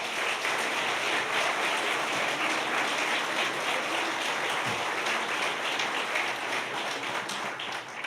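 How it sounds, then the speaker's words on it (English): A seated audience at a public service award ceremony applauds its awardees, a steady wash of many hands clapping at moderate volume that carries on evenly before tapering slightly at the end. "Let's give all of our awardees another round of applause."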